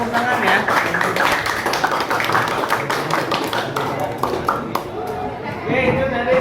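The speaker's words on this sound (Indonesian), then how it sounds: "Boleh tepuk tangan ya." Students and audience in a classroom clapping hands, a busy round of applause with sharp individual claps and background chatter throughout, tapering slightly before a voice comes in.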